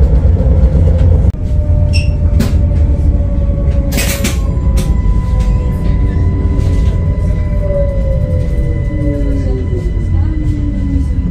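A train arriving at a station in Brussels, Belgium rumbles steadily with rail noise and a long rising metallic squeal of wheels as it slows, low machinery drone throughout, with some faint voices in the background.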